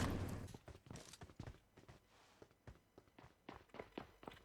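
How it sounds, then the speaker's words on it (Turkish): Footsteps in the PUBG Mobile video game: a quiet, fairly steady series of short treading taps that continues throughout. "Ayak sesi."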